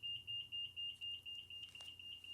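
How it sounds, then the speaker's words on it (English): Fire alarm beeping indoors, a string of evenly spaced high electronic tones that repeats rhythmically and sits faint against a quiet room. "so we have a fire alarm going off"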